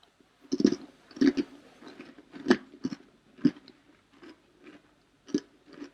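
Crispy air-fryer chocolate cookie bitten and chewed up close, a string of crunchy bites and chews at uneven intervals, with no talking.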